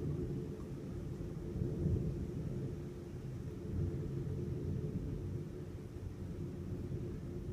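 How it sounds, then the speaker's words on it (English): A distant thunderstorm over Chicago gives a quiet, continuous low rumble of thunder that rises and falls gently for several seconds, heard alone without any voices. "thunder is non-stop."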